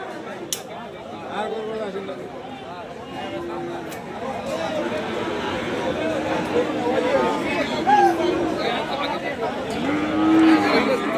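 Cattle moo repeatedly at a busy livestock market, the low calls rising over a steady murmur of crowd chatter, with people talking nearby throughout.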